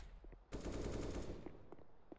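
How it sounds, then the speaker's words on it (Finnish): Rapid automatic gunfire in a competitive video game match, a sustained burst of dense, fast shots after a quieter start, followed by a few scattered single shots, fairly faint overall. "Siinä on ammuskeltu ihan jo kiitettävään tahtiin."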